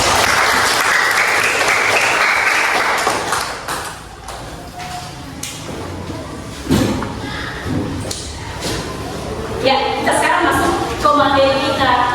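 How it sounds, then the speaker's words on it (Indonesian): An audience claps loudly at first, then the applause thins and fades, leaving a few thumps and voices talking toward the end. "Kasih tepuk tangan."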